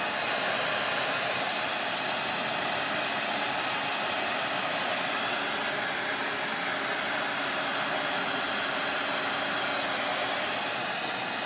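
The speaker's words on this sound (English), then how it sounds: "So when you use a blow dryer, what's happening is you're drying the top surface of the wet paint" A hair dryer roars in a steady, loud, unbroken blast for over eleven seconds, drying a coat of wet milk paint on furniture with no talking over it.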